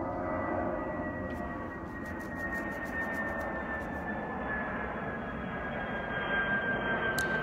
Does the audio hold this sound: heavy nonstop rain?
no